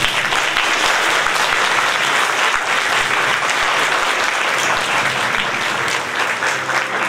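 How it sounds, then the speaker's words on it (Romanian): Sustained audience applause at a celebration for a retiring teacher at a technical college, loud and even throughout with a few sharper claps standing out, no voices over it. "Să-l aplaudăm!"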